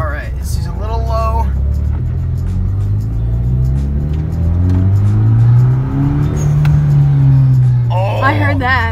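A lightly modified Mitsubishi Evo X with an HKS super sequential turbo revs up and settles back in a long, loud, close rumble, with brief talk at the start and end.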